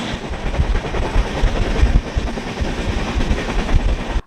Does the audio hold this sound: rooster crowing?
no